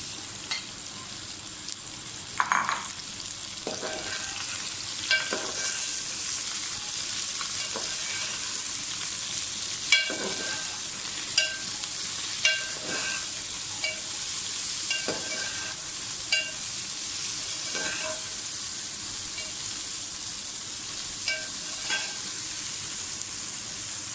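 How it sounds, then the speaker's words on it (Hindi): Okra sizzles steadily in hot oil for a crispy bhindi pyaz dish, a continuous close frying hiss with scattered sharp pops and crackles throughout. "भिंडियों को भी फ्राई करके निकाल लेंगे और फिर इसका मसाला बनाएंगे"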